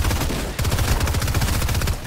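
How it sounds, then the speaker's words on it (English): Rapid gunfire in Fortnite, a close, loud burst of quick repeated shots with punchy low thumps, a short break, then another sustained volley lasting about two seconds. "Oh, I'm getting shot."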